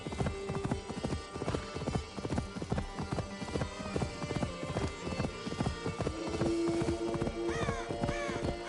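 Rapid clip-clop of horse hooves galloping steadily throughout, with a brief whinny and a few faint bird calls in the background, in the video game Assassin's Creed Valhalla.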